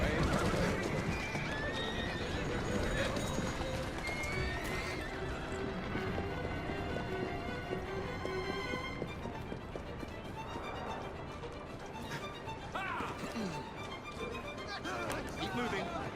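A horse in the video game Assassin's Creed Syndicate whinnies and clip-clops along, with hooves and carriage-like rolling under continuous game sound and someone talking throughout.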